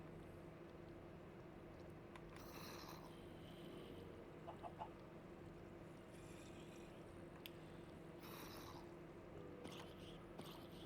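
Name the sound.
chicken clucking from a chicken jockey in Minecraft video game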